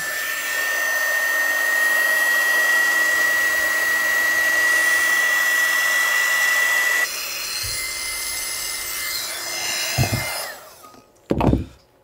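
A heat gun blows a steady, loud, whining hiss as it shrinks heat shrink tubing over wiring in a recreational vehicle, with a tone change partway through, then cutting off and ending in a couple of handling knocks.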